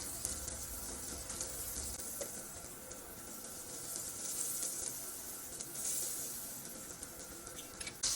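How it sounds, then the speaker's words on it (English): Soft, continuous sizzling of butter in a pan, a gentle crackling hiss with occasional faint clinks, no talking. "As soon as the butter starts to sizzle"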